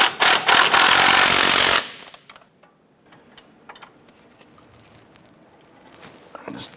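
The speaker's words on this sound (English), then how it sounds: "I'm going to go ahead and tighten up our bolts." Mechanic tightening engine mount bolts on a 1994-2004 Chevrolet S10, with a loud burst of power-tool rattle for about two seconds followed by softer clanks and tool handling.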